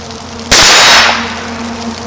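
A single sharp rifle shot from a Henry Golden Boy Silver lever-action in .17 HMR, fired outdoors at a target. It is loud and close, with a brief ringing decay and no talking.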